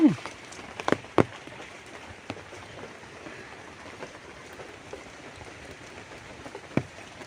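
Steady rain patters on surfaces in a sweet lime orchard, with a few sharper drips and knocks up close and no clear talking.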